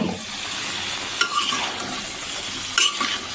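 Chopped bottle gourd stirred in a hot pan, a steady close sizzle with a couple of brief scraping stirs of the spoon against the pan.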